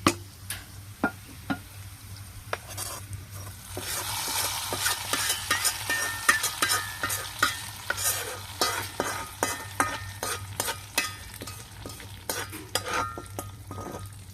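Cooked ingredients are tipped into a pot of tomato coriander dal and stirred, giving a run of sharp spoon-on-pot clinks and scrapes in an uneven rhythm over a soft sizzle, close and alone without talk.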